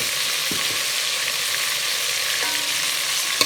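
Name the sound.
spices frying in ghee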